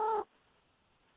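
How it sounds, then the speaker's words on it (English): A single short cat meow, a brief tonal call lasting about a fifth of a second at the start, then quiet room tone. "That's my cat."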